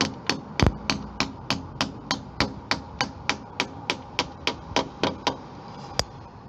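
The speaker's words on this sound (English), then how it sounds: "We're knocking these pins in, hammer against the glass" A hammer taps glazing bead pins into a wooden window frame: about twenty sharp, evenly spaced knocks in a steady rhythm, close and clear with no talk.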